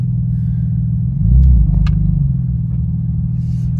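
An expensive sports car worth 370,000 euros drives along, its engine a deep, steady low rumble that briefly swells louder mid-way before settling back into a constant drone.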